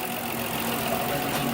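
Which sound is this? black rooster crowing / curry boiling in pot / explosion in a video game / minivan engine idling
minivan engine idling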